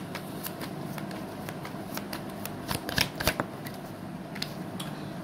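Tarot cards being shuffled and drawn, a steady papery riffle throughout with a cluster of sharper snaps and flicks near the middle, close and moderately quiet, with no talking.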